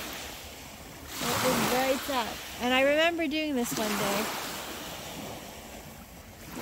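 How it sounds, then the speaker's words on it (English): Waves wash onto a beach at sunset within view of Toronto, a soft, broad surf rush with wind that swells under a person speaking briefly. "Listening to the waves"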